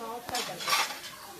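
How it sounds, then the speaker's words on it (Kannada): Mushrooms frying in a pan for mushroom biryani, with a metal spoon scraping and clinking against the pan in a quick burst of stirring, close and fairly loud, with no talk. "ಮಶ್ರೂಮ್ ಹಾಕಿ ಚೆನ್ನಾಗಿ ಫ್ರೈ ಮಾಡ್ತೀವಿ"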